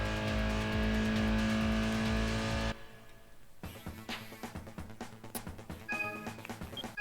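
A race car in Gran Turismo 1 during a B license test, its engine droning steadily at high revs, then cutting out before rougher revving and gear changes return, with synthetic game tones throughout.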